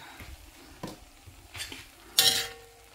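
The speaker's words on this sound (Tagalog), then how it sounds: "Haluin mabuti." A utensil stirs pancit noodles in a pan, giving a few scattered scrapes and soft knocks, then one sharper metallic clink near the end. The sounds are close and otherwise quiet.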